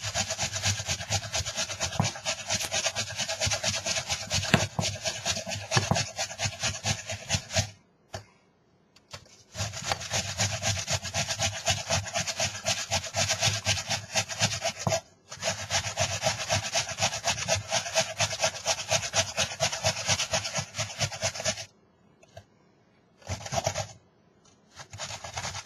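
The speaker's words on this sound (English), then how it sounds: "start by grating our potato into our bowl. Just stick the grater over the bowl, have at it." A potato is grated over a bowl in long runs of rapid, rhythmic rasping strokes, loud and close, broken by a few short pauses.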